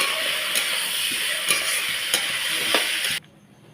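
Rice and lentils fry in a pot for khichuri, a steady close hissing sizzle with light periodic scrapes of stirring that cuts off abruptly near the end.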